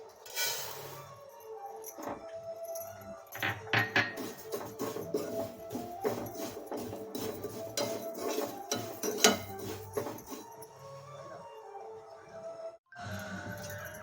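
Vermicelli roasted in ghee on a flat tava, a light crackling sizzle broken by repeated clinks and scrapes of a ladle against the metal pan, close by and steady.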